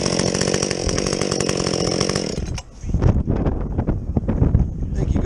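A muffler-modded Husqvarna 562XP chainsaw runs at a loud, high rev for about two and a half seconds, then bogs down as it bites into a recently felled tree, revving unevenly while bucking the log; a voice may be present.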